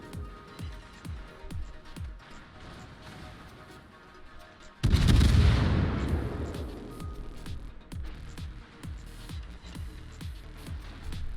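Naval guns boom repeatedly in a warship battle video game, a steady run of punchy shots with one heavy, sustained blast midway, loud and close with faint talk underneath.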